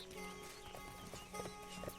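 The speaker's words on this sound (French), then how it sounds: "Et ben il est où mon cheval? Je l'entends mais je le vois pas." Horse hooves clip-clop in the Sacred 2 video game as a mount approaches unseen, a steady run of soft hoofbeats with a few louder strikes near the end, over ambient game sound.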